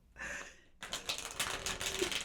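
A stiff tarot card deck being shuffled: a short soft rustle, a tiny pause, then a longer run of quiet, dense crackling riffles close by.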